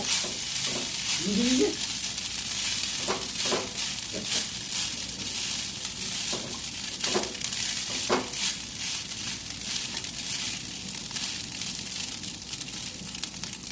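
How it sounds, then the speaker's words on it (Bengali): Rice fries in ghee with cashews and raisins, a steady hiss and sizzle broken by scraping stirs of a spatula in the pan. No one speaks. "ভালো করে ভাজা ভাজা করে নেব ঘিয়ের সাথে"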